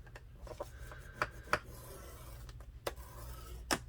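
A 12 inch paper sheet is scored for a journal cover, giving faint, quick scraping strokes and soft clicks at an irregular rhythm, close and quiet with no talk.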